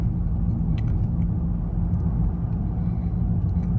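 A 2012 Ford Fusion hybrid cruising in electric mode at about 40 mph, heard as a steady, loud low road rumble with tire and wind noise, no engine note standing out, and no talking.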